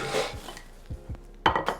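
Mexican street corn mixture scooped into a serving bowl produces a few close clinks and knocks of utensil against dish, spaced irregularly with a louder pair near the end, no talking.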